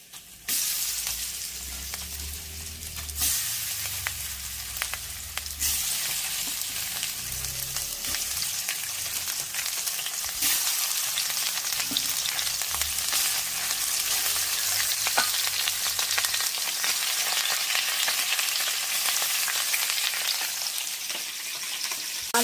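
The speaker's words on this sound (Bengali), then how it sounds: "মাছ ভাজা আমি বেশি কড়া করে ভাজবো না" Fish pieces frying in hot oil, a dense continuous sizzle and crackle that stays loud and close throughout, with a few low clunks of handling early on.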